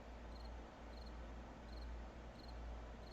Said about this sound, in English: I hear crickets chirping.